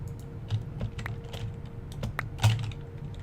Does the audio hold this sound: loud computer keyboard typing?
yes